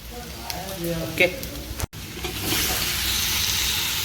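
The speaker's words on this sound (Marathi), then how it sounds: "पूर्ण तेल सुटेपर्यंत फ्राय करायचं आहे" 5-6 tomatoes dropped into hot oil over browned onions, setting off a loud, steady sizzle of frying after a brief clatter, with a voice speaking briefly at the start.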